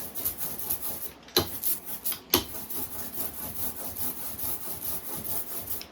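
A brayer rolls oil-based ink onto a printing plate with a steady, sticky rasping hiss in repeated back-and-forth strokes, close and fairly quiet, broken by two brief knocks.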